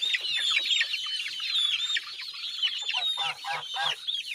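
A hen clucking repeatedly up close, with chirpy peeping and a few low soft clucks near the end.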